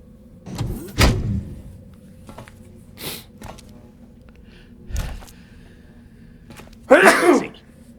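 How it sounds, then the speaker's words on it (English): One loud human sneeze near the one-second mark, preceded by a short intake of breath, set among sparse game sound effects and mechanical whirs during a Metal Gear Solid 2 session. "Horrible time to sneeze."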